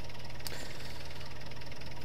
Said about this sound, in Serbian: Sada ću vam pokazati kako traktor zvuči i izgleda u radu